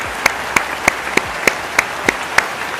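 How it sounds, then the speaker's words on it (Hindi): Sharp, evenly spaced claps ring out about three times a second, eight in a row, fairly close and clear with no talk, at a Glaze product launch event. "जोरदार तालियां इन दोनों के लिए दोस्तों"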